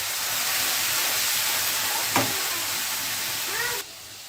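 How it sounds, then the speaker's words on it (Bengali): Water poured into a hot pan of red chili powder and spices frying for a dried loitta fish roast, a loud broad steady hiss and sizzle with a brief sharp crackle midway, cutting off near the end. "মশলাগুলো ভালোভাবে কষানোর জন্য আমি অল্প করে জল দেবো"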